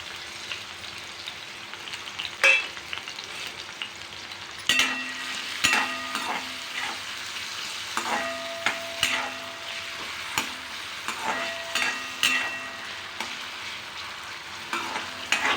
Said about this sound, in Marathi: आपलं गरम झालेलं आहे, त्याच्यामध्ये आपण बटाटा टाकूया।